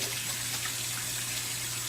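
A kitchen tap in California runs while hands are washed between seasoning a turkey, a steady close hiss of flowing water with no breaks and no one talking.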